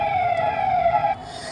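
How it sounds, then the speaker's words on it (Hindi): An ambulance siren near a hospital wails loudly and steadily, then stops abruptly after about a second, leaving faint background noise. "ये बगल में हॉस्पिटल है दोस्तों, इस कारण से एम्बुलेंस की आवाज़ आ रही होगी।"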